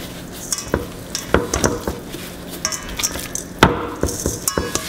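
Sliced beef mixed by hand with salt for a Thai beef salad, with soft wet squishing and irregular taps and knocks against a bowl, close and moderately loud, no talking.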